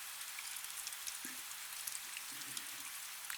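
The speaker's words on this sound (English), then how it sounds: "The rain, just barely, still fell." Light rain falling softly and steadily, a faint hiss of fine drops with no voices, quiet and even throughout.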